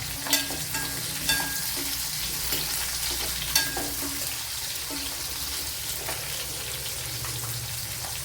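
Carrot pieces dropped into a frying pan with squid, a steady hiss of frying with a few distinct knocks and splashes as the pieces land, close and even, no voices.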